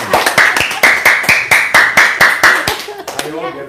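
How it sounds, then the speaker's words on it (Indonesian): A group claps hands in a steady series of about a dozen sharp, loud, evenly spaced claps close by, ending with brief voices. "Tepuk tangan dulu dong."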